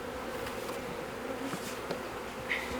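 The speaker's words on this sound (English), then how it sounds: "Well, a couple of hives are really busy, aren't they?" Honeybees buzz around a busy hive on a farm, a dense continuous drone held close and even throughout, with a few individual bees passing nearer.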